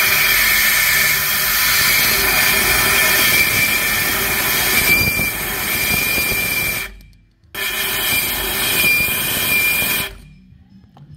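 A Foxbody Mustang engine fitted with a 70mm BBK throttle body roars loudly and steadily, with a thin, high intake squeal running on top. The sound cuts out briefly twice near the end.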